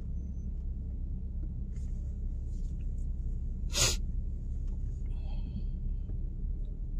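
A car driving through the Lincoln Tunnel in New York City, a constant low enclosed road rumble with a sharp short burst partway through and faint higher noises.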